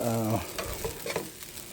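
Cooked rice fries and is stirred in a pan over a small blue gas flame, giving a brief burst of sizzling with a few scraping stir strokes, close and fairly loud.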